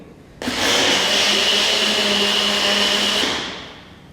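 A mixer grinder grinding milk for thandai starts abruptly and runs at a steady high-pitched whir for about three seconds, then winds down to a stop.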